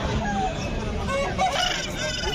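A rooster crows and chickens cluck at the Nallapadu chicken market, heard through a dense, continuous wash of market noise with scattered background voices.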